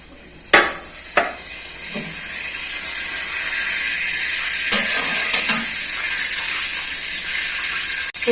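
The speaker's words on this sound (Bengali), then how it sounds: "কড়াইয়ের মধ্যে আমি ভাজা যে তেলগুলো ছিল সেই তেলগুলো কড়াইতে দিয়ে ফুলকপিগুলো ভেজে নেব" Cauliflower florets fry in previously used oil in a karai wok, a steady bright sizzling hiss broken by several sharp clanks of a spatula against the pan.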